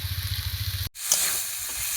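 Banana flower dropped into a hot pan for a Bengali mocha curry, a steady sizzle after a brief gap, breaking into bright, crackling frying that stays loud and close.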